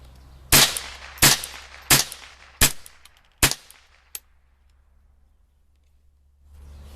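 Mossberg 715T .22LR AR-style rifle with a faulty extractor fires five sharp, loud shots at a slightly uneven pace, each with a short ringing decay, followed by a small metallic click and quiet outdoor background.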